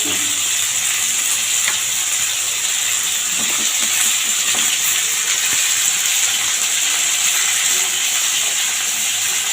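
Vegetables including long beans and pointed gourd fry in a pan, a loud, continuous hissing sizzle with occasional light stirring scrapes throughout.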